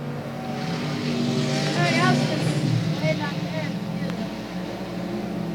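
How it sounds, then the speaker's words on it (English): Race cars roar steadily around the South Texas Speedway oval, engines droning loud and close with a pitch swell as a group passes, while a track announcer talks over the action. "And here we go, the next group of 4 cars with Sturts and then Smith and Chapa"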